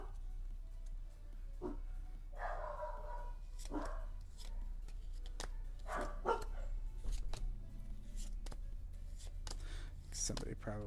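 Several dogs bark and yip in scattered bursts, moderately close, with soft whispery sounds and faint handling noise between the barks.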